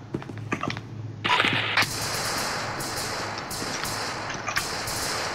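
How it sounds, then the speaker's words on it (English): Gunfire in the video game SCP: Secret Laboratory: a few sharp, close shots, then a louder burst followed by a sustained noisy rush with scattered cracks. "Why the fuck are you shooting at me?"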